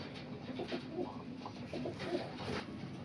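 Mirabwala pigeons keep up a faint, continuous chorus of soft, low coos with overlapping calls from several birds and no voices.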